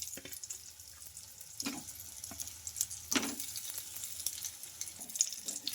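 Steamed idlis are tossed into a frying pan of crackling tempering with curry leaves, a quiet sizzle punctuated by a few clinks and scrapes of stirring.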